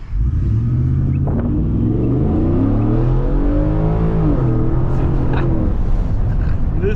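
A Ford F150 pickup with a 5.0 liter engine revving at night, a loud, close, deep exhaust rumble that climbs in pitch as it accelerates and then settles back, heard alone.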